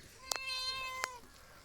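A house cat kept indoors in a Himachal home meows twice, the calls short, close and fairly clear against a quiet background, the second following after a brief pause.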